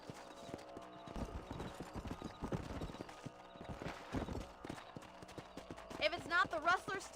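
Horse hooves clip-clop steadily as a rider moves across a farm property in the video game Red Dead Redemption, the rhythmic hoofbeats running under people talking, with a whinny near the end.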